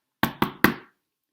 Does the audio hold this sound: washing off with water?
no